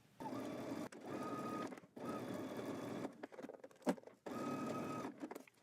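A sewing machine runs in three long bursts, stitching a dress skirt onto its bodice with a 5/8-inch seam, pausing briefly between runs with a sharp click in one gap; steady and close, no talking.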